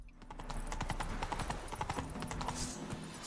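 A horse's hooves clip-clop at a steady walk in the video game The Witcher 3, in a city outskirts setting, with faint quick regular hoof beats and no voices.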